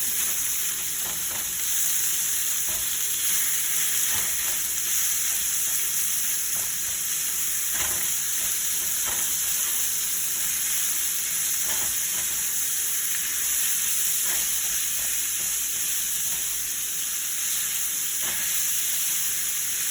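Ground beef frying in a pan without added oil, its fat rendering out, gives a loud, steady sizzle with a constant hiss, and occasional stirring scrapes come and go under it, with no one talking.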